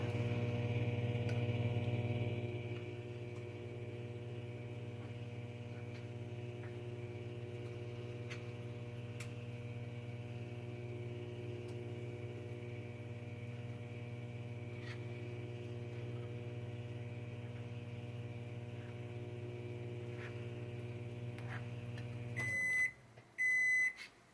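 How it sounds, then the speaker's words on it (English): A microwave oven melting butter hums steadily with a low drone for about twenty-two seconds. Then the hum cuts out and a few sharp, close beeps sound, with no talking. "We got our butter melting in the microwave."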